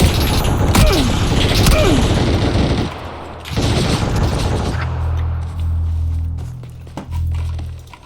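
Video game combat with rapid automatic gunfire bursts and a loud bomb explosion, dense and close, followed by a lower rumbling boom and scattered shots.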